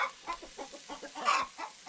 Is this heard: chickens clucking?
yes